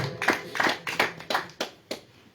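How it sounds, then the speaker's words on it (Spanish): A church congregation claps loudly during a worship service, six sharp, evenly spaced bursts of clapping in a steady rhythm, close and clear with no talk over them. "dale fuertes palmas al Señor"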